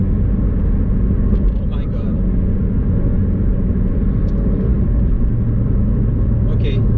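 A 2019 McLaren 720S engine drones in a steady low rumble from inside the car under light throttle, while someone talks over it.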